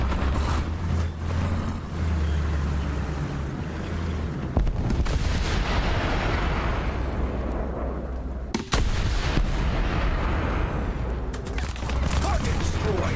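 Heavy artillery guns fire in a video game battle, loud booming blasts with low rumbling tails recurring over about thirteen seconds against a steady engine-like drone.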